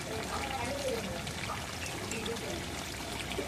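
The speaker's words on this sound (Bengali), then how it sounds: "এখন একটু ঝোলের পানি দিই" Water poured into a pot of braised meat curry with potatoes, a soft steady trickle and splash close by, with faint voices in the background.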